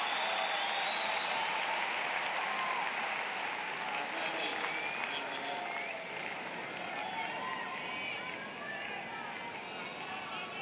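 A big tennis crowd at the US Open roars and applauds at length during a 2005 quarterfinal between Federer and Nalbandian, a steady, dense wash of clapping and cheering that holds for the whole stretch.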